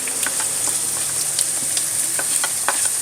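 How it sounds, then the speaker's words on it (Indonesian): Shallots sizzle and crackle in hot cooking oil while being stirred, a close, steady frying hiss dotted with sharp pops and scraping stir sounds. "Kita goreng dulu bawang merah."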